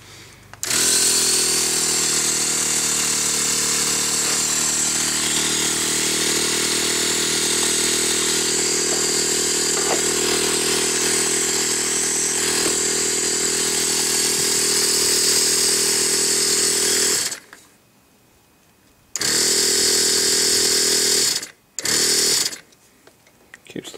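A 12V air compressor with a freshly repaired cylinder leak runs loud and steady with a harsh mechanical drone, then cuts off abruptly and restarts in short bursts near the end.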